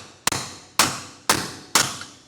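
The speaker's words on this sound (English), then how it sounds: "We'll hammer in a little bit, you'll see it kind of bite in" Four sharp, evenly spaced hammer blows drive a rubber bushing into a MORryde rubber trailer suspension equalizer on a 2022 Genesis Supreme trailer, each strike a loud close metallic crack that quickly fades.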